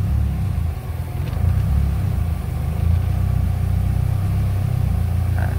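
A car engine fitted with Bosch injectors and programmable fuel injection idles in a low, steady rumble that holds continuous and even throughout at close range.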